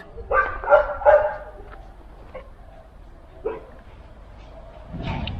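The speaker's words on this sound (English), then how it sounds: "Oh boy, we got dogs." Dogs bark in a residential neighborhood in Montenegro, with a few sharp barks close together at the start, then scattered fainter yips and a rumble of background noise.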